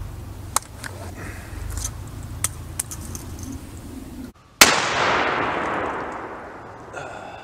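A single rifle shot from a Winchester Super X round fired through a muzzle brake: faint clicks of handling, a brief hush, then one loud, sharp close-range blast whose roar decays over about two seconds.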